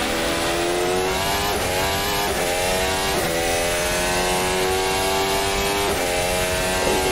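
A race car engine in a VR racing game screams loud and steady, its pitch climbing and then dropping at each upshift before rising again, with no voices.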